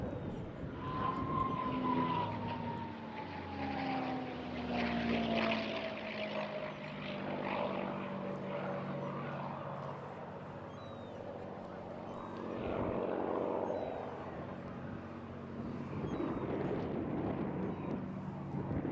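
A P-51 Mustang flying a display at the Eastbourne airshow, its propeller engine droning steadily as it passes, with a falling pitch as it goes by and a commentator talking over it.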